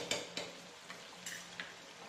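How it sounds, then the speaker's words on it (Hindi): Dhaba style chicken sukha mixed with cream and ghee in a pan, faint spoon scrapes and light taps over a soft sizzle, a few spaced stirs at low level. "इसे हमें अच्छी तरीके से मिक्स कर लेना है।"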